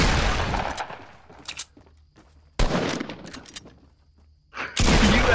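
Video game gunfire comes in three loud, rapid bursts of automatic fire, separated by quieter gaps with scattered shots and clatter.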